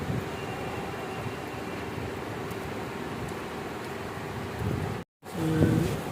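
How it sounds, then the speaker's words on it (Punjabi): Heavy rain pours down in a steady, dense hiss close by, unbroken apart from a momentary dropout near the end. "ਬਹੁਤ ਤੇਜ਼ ਬਾਰਿਸ਼।"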